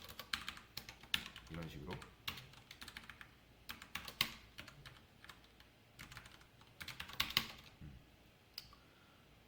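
Someone types an SQL query on a computer keyboard, with quick irregular key clicks in short clustered bursts, close and soft, while a voice briefly talks.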